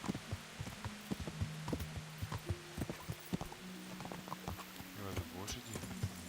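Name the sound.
horses' hooves clip-clopping in the video game Kingdom Come: Deliverance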